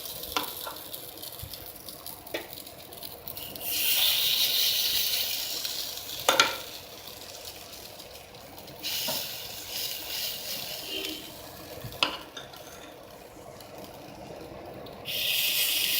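Rava appam balls fry in oil in a pan, giving a close, continuous sizzle with sharper bursts of hissing every few seconds and a few light clicks, with no speech.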